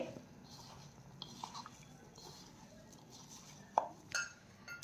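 Soya chunks are tossed with cornflour in a bowl for soya chilli, giving soft, quiet rustling and shuffling with a few light clinks of utensil against the bowl near the end, close and without talk.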